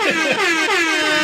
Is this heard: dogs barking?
no